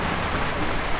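Steady rain pours down in a dense, even hiss across a short stretch, with no voices over it.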